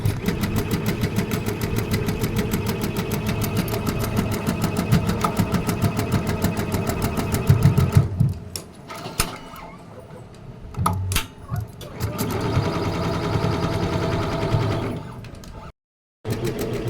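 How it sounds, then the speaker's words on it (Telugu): A sewing machine stitching mirror work onto a blouse gives a steady, rapid mechanical whirr. It halts about midway for a few seconds, then starts up again at the same close, even level. "మిషన్ స్టార్ట్ చేశాను. మిర్రర్ని ఎలా వర్క్ చేస్తుందో చూడండి"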